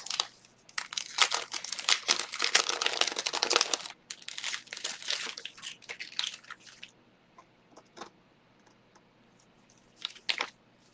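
Crinkly peeling and rustling as puffy stickers are pulled off a sticker sheet, with dense close-up crackling bursts for several seconds, then quieter pauses and a brief final crinkle.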